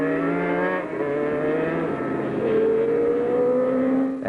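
Superbikes, including an RC Honda 750, race at Phillip Island in 1989, their engines wailing and shifting pitch as they pass and accelerate, a continuous loud howl with changing tones.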